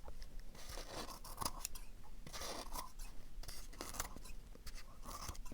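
Scissors cut through fabric for a fabric-covered heart craft, giving repeated close snips and crunchy slicing strokes in an irregular rhythm, quiet and with no talking.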